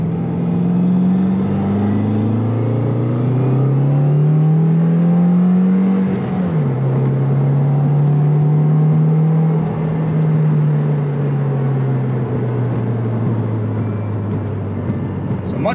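A Subaru WRX with an Invidia R400 exhaust drones from inside the cabin with the windows up, a steady low engine hum that rises and dips with throttle, muffled and continuous.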